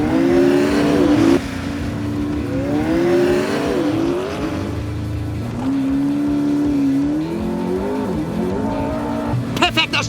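A McLaren Senna hypercar launches from a drag race start, its engine note rising loudly in stepped pitch sweeps as it accelerates through the gears, with voices talking excitedly over it.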